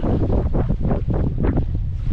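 Strong, steady wind buffets the microphone while sailing on Lake Superior, a continuous low roar with gusty surges, with no talking.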